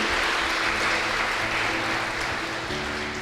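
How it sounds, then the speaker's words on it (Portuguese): A dense, steady wash of applause from a large church congregation, sustained at an even level throughout with a faint hum beneath. "Vamos aplaudir o Senhor pela vida dela."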